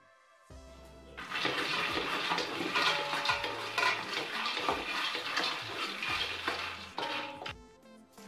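Peanuts are stirred and roasted in a preheated pan, making a dense, close rattle and sizzle that builds after a quiet start and keeps going for several seconds before easing off.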